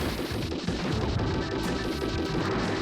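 Rapid bullet fire in the SD Gundam 2 video game: a dense, continuous barrage of crashing, blasting shots filling the whole stretch at steady loud level, with no pauses and no talk.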